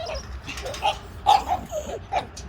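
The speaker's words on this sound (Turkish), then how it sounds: "Eyvah bir sürü köpek." Several dogs at Bursa Zoo bark and yip in short, uneven bursts, some higher-pitched whimpers mixed in, heard from a little distance.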